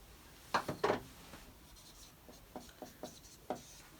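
Several brief marker or chalk strokes on a board during a university lecture on unit production, scratchy and fairly near, with short gaps between bursts and no talking.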